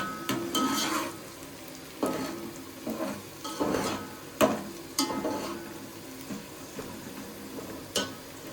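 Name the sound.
okra, tomatoes and chillies frying in a pan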